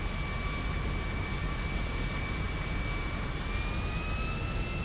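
A jet airplane engine in GTA 5 Online whines and roars steadily and loudly, a constant rushing drone with a high tonal whine holding throughout.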